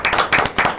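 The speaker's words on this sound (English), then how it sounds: "you deserve actually a round of applause" A short burst of applause for a provost at a college council meeting, with a few people clapping in quick rhythmic bursts close by, alone without speech.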